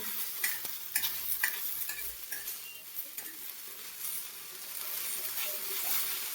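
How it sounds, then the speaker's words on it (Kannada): Steady crackling sizzle of spices frying in hot oil, with occasional sharp pops and light stirring scrapes throughout, no voices. "ಪಟ್ನ ಒಗ್ಗರಣೆ ಹಾಕಿದ್ರು."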